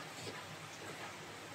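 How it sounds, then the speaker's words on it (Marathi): Rain falls steadily outside, a soft continuous patter with no talk, heard briefly and evenly. "बाहेर पाऊस पडतोय"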